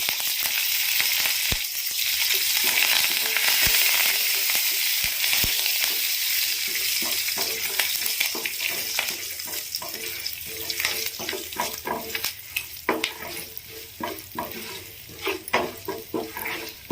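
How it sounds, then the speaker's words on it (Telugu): Tempering spices with dried red chilli and curry leaves frying in oil for a ridge gourd chutney, loud sizzling that settles into sharp spattering pops and crackles toward the end, close by. "ఆయిల్ వేసుకొని అందులోకి కొన్ని పోపు దినుసులు వేసుకోవాలి"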